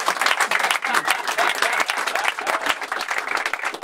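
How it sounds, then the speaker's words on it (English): A studio audience in Abbey Road Studio 3 applauds: dense, steady clapping at close range that fills the whole stretch. "Round of applause for John Leckie, please."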